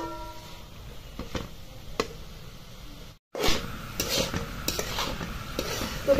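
Onion greens cooking together with dal and masala in a pan for a rustic-style sabzi, giving a steady close sizzle with scrapes and clinks of stirring and a brief gap midway.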